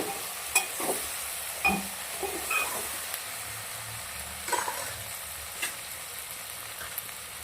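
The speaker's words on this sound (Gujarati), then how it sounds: "ભીંડામાં લાલ પડે ત્યાર સુધી આપણે ભીંડાને શેકવાના છે" Okra sizzles while being stir-fried in a pan, a steady hiss close by, broken by a few sharp scrapes and clicks of a spoon against the pan.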